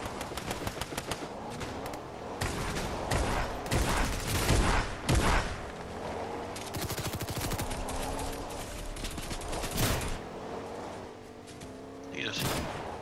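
Rapid bursts of video game gunfire crackle through a match, dense volleys of shots and booms coming in waves over a steady game soundscape, with players talking throughout.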